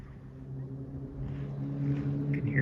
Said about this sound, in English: You can hear cars going by.